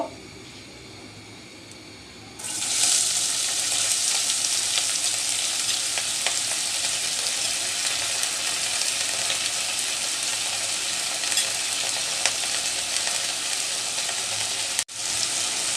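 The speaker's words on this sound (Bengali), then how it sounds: "সরিষার তেল দিয়ে করতেছি প্রথমে আমি তিত করা আর আলুটা আগে ভেজে নিব" Bitter gourd and potato frying in mustard oil, a quiet start giving way to a loud, steady hiss of sizzling that runs on without talk, with faint stirring scrapes and a brief dip near the end.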